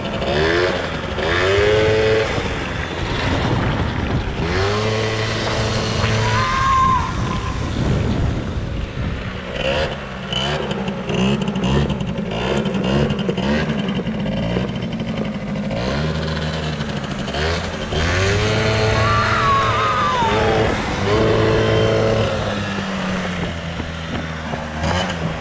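A child's quad ATV engine idling loudly close by after being started, with repeated throttle blips rising and falling in pitch over a steady rough idle, continuous throughout.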